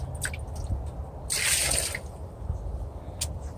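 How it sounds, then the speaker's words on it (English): Rainwater poured into a garden pot splashes and gurgles in a short burst near the middle, set among scattered close drips and squishy wet sounds over a low background rumble. "Pour it in here."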